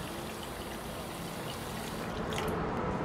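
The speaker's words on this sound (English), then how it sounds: "now you switch on the water" Water runs steadily from a newly reinstalled kitchen tap, a continuous close hiss and splash that grows slightly louder toward the end.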